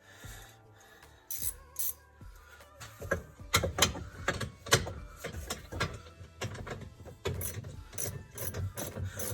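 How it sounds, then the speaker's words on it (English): A quarter-inch drive ratchet wrench tightens racing seat bolts, its pawl clicking in quick repeated bursts with short pauses between strokes, close and fairly loud, with no talk. "And just get my ratchet out."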